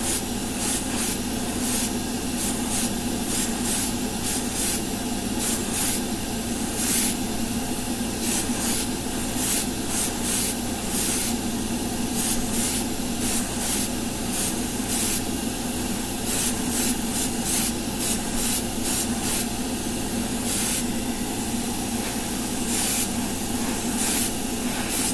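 A Badger airbrush spraying Stynylrez primer on Gunpla plastic models gives a steady, loud, close hiss of compressed air with a constant tone and faint rhythmic ticks throughout.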